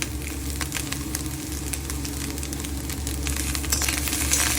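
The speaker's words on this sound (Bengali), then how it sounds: "সুন্দরভাবে জিনিসটাকে আমি নেড়ে নিচ্ছি" Food fries in a pan while being stirred, a continuous sizzle with scraping and rattling stir strokes, growing slightly louder toward the end, no talk.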